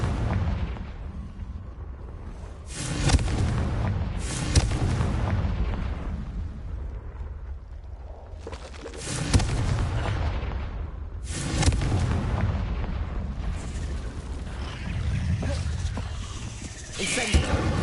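Confringo and Bombarda spell blasts go off in a wizarding video game, several loud booming bursts at irregular intervals with crackling tails, and a voice shouting between them.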